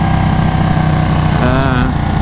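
A Ducati Panigale 1199 sport motorcycle idles close by with a loud, steady, throbbing rumble and a slight rising rev near the end.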